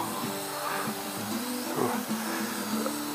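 Hubsan H502E quadcopter drone flying at maximum speed, a thin whining buzz of small rotors that rises and falls in pitch as it passes, fairly faint and steady.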